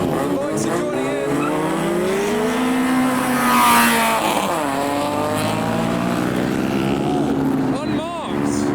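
A noisy Citroen Saxo revs hard as cars leave a JDM show at night, its engine note climbing and falling in loud, rasping sweeps. Other traffic rumbles in the background.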